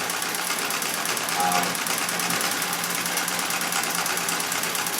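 A Singer 66 red eye treadle sewing machine runs steadily while quilting, a continuous close mechanical whirring and rapid stitching rattle with no pauses.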